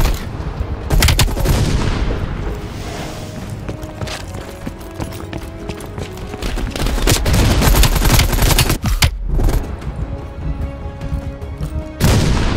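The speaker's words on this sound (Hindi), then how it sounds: "भाई साहब मिनी गन 900 गोलियां आप देखो मार।" A minigun fires in long, dense bursts in Call of Duty: Black Ops Cold War, loud and continuous with brief gaps, mixed with booms and other battlefield noise.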